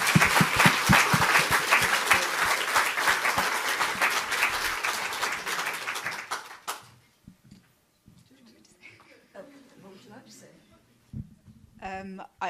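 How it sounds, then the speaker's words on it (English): Dense audience applause fills a room for about six seconds, then fades out abruptly, leaving quiet murmurs and a few scattered voices talking. "can we give a round of applause to Nina?"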